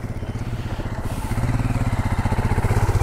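An old Royal Enfield Himalayan motorcycle rides off-road, its single-cylinder engine giving a steady low thumping pulse that grows louder and more rhythmic partway through as the bike pulls closer, with no talk over it.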